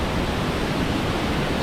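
The Stuibenfall waterfall in Austria rushes in a steady, loud roar of falling water with no breaks, heard close by beside a via ferrata climbing route.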